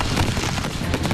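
Fireworks mortars at a pyrotechnics show burst in a dense, continuous barrage of loud booms and crackles, so close together that they merge into one roaring wall of explosions.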